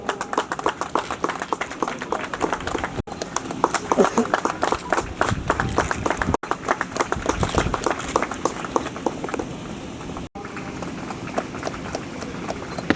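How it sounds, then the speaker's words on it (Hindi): Audience applause at a police passing out parade, dense and continuous clapping from a large crowd lasting throughout, with voices mixed in. "तालियां जरूर बजाते रहें, तालियां कुछ अच्छा सा मैसेज कराती है"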